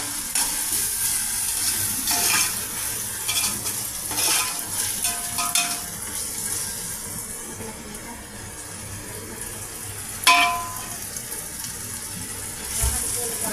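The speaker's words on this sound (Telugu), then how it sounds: "ఈ పెద్దల్లిపాయ పీసెస్, అల్లం చిన్నులపాయల పేస్టు బాగా ఫ్రై చేస్తున్నామండి" Large onion pieces and ginger-garlic paste fry in a pan for pulav, giving a continuous close sizzle with stirring scrapes and an occasional louder clatter.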